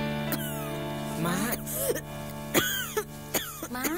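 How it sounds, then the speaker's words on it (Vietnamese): An elderly mother with a cough from a chill coughs and clears her throat several times in short, rough bursts, close and fairly loud, with brief pauses between fits and no speech. "Má ho nhiều quá à."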